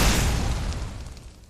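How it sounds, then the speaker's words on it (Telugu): A magical burst of light explodes in a fantasy story, a single loud boom at the start whose roar decays steadily over about a second and a half. "వెలుగు పేలింది. గుండె చీలిపోయింది."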